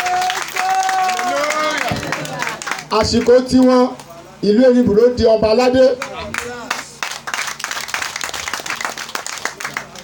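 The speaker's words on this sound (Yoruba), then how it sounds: "ẹ bá wọn pàtẹ́wọ́" An audience claps in bursts for a king at an Erinburo ceremony, the applause rising and falling under and between a man's amplified speech.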